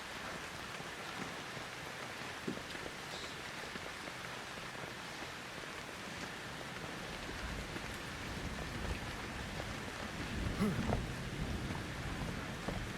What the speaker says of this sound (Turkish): Bu kan yağmurunu hala kimse açıklamadı ben onu merak ediyorum.